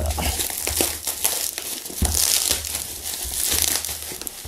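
Plastic packaging around an FPV radio transmitter crinkles and crackles loudly and up close in bursts, as if being pulled and crushed by hand, with only brief pauses between handlings.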